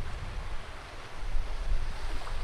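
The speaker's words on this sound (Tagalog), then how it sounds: "Ayan yung kanilang tubig dito sa beach." Low-tide waves wash gently onto a beach at Dapitan City in the Philippines, a steady wind-blown rush with rumbling low swells that rise and fall, no talking.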